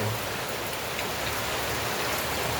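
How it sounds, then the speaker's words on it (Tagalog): Heavy rain pours steadily in a dense, continuous hiss, loud and close, with no voices. "Malakas ang ulan."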